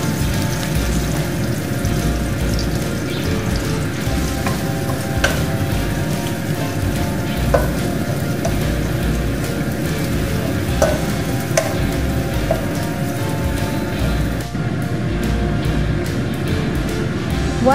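Onion and tofu frying in a pan of hot oil give a steady, dense sizzle with occasional sharper pops and crackles, close and continuous throughout.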